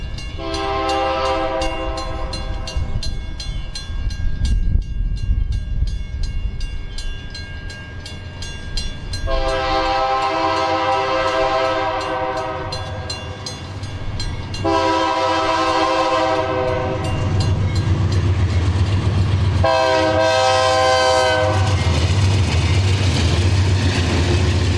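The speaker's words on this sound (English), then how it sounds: "follow some trains on the old Santa Fe east through town" Santa Fe freight trains rumble past on the old main line through a residential stretch of Galesburg, the locomotive horn sounding in repeated long blasts over a steady, loud roll of wheels and cars.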